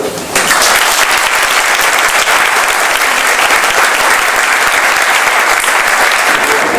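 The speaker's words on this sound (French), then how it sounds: "je voudrais, mesdames et messieurs, que vous applaudissiez ces élus qui nous quittent" A hall audience at a municipal council installation in Roncq applauds the departing council members, a dense, loud, steady wash of clapping sustained throughout without talk.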